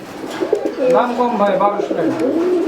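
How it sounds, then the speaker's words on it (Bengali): Fancy domestic pigeons cooing at a pigeon farm sale: close, continuous throaty coos and warbling calls that rise and fall in overlapping phrases. "সুস্থ সবল অ্যাক্টিভ কবুতর"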